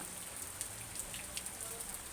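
Continuous gentle rain at a house in Ban Thap Luang, Ta Kong, Nakhon Pathom, a quiet even hiss with faint individual drops tapping nearby surfaces and no voices.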